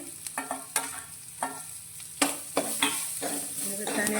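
Chopped onion, green chilies, ginger and curry leaves sauté in a hot pan with a soft, steady sizzle, while a utensil scrapes and knocks in irregular clinks throughout.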